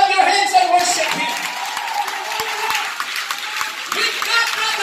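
A church congregation claps along during worship, a dense continuous patter of many hands mixed with voices and sung or spoken sound over it, fairly loud and close.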